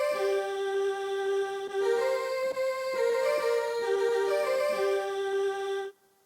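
Breathy, flute-like Fairlight synthesizer patch, playing a sustained melodic line with steady tones and short note changes, loud and alone before cutting off at the end.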